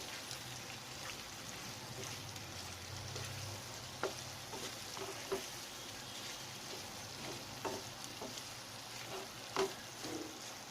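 Chicken fry being stirred with coriander powder, a quiet, steady sizzle under scattered spoon clicks and scrapes against the pan.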